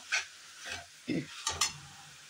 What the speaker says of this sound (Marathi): आता ह्याच्यात त्याच वाटीने पाव वाटी मी खवा घेतलेला आहे, तो मिक्स करायचा आहे।